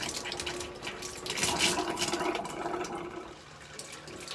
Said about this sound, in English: It's got to fill up the hot water storage tank as well.